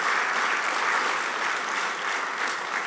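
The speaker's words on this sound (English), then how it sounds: "I think we could do better than that in applauding the previous speaker" An audience at a capacity-building workshop applauding, dense steady clapping from many hands filling the room without pause.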